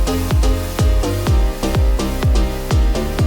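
EDM mix with side-chained white noise layered under a pumping beat: steady kick hits roughly every half second duck the bright noise bed, which swells back between beats for a rhythmic breathing effect.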